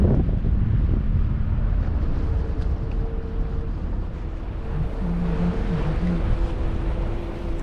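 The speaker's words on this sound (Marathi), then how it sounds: "बंदरावरती पण वारा खूप आहे" Strong wind at a fishing harbour buffets the microphone in steady gusts, with faint low engine hum and distant tonal sounds in the background.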